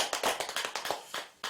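Audience clapping at a Buddhist temple dharma gathering: a short burst of rapid, fairly quiet applause from a small crowd, lasting under two seconds.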